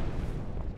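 A car blows up in the heist video game Perfect Heist 2, a single loud, deep boom with a rumbling burst that fills the whole short moment.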